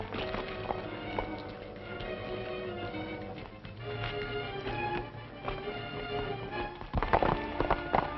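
Rhythmic horse hooves clip-clopping at a steady pace, moderately close, with a busier burst of movement near the end, in a 1936 western film.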